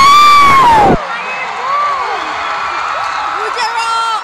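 Concert crowd at a grand finale erupts in loud cheering and whooping after a sustained shout, the roar holding steady through the clip with scattered clapping.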